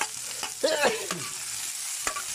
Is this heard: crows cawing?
no